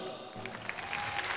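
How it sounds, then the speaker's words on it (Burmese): An audience applauds briefly, a soft, steady patter of clapping hands heard from a distance, faint and continuous without voices. "ကိုနောင်နောင်တို့လက်ခုပ်တီးပါလား"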